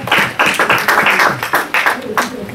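A church congregation claps and applauds after a scripture reading at a French-language service, with steady rhythmic hand claps filling the space and voices mixed in throughout.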